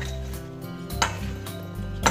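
Corn is stirred into sauce for a rainbow salad, a spoon clinking and scraping against a bowl in a few close, moderately loud strokes over low kitchen hum.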